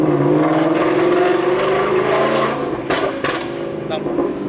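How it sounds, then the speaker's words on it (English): Supercharged Ford Mustang exhaust rumbling up close, a droning engine note that eases off into burbles with a few sharp pops toward the end, with people talking over it. "I wanted him to kind of get in my car and tell me if the burbles and pops are normal."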